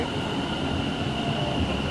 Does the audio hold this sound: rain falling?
no